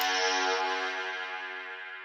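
A dial-up modem sample run through Serum with hyperdimension chorus, OTT, sidechain delay and reverb rings as one wide, bright, sustained tone that slowly fades, heard alone.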